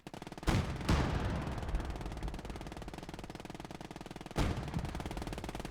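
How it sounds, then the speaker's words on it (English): Machine gun fire in the World War II strategy game Gates of Hell, two sharp bursts with a ringing tail, followed by a steady rapid rattle of rounds. "over here we have a machine gun. And the machine gun can"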